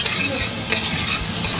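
Onions, mushrooms and bacon brown in a frying pan with a loud, close, unbroken sizzle and faint stirring clinks, with no voices.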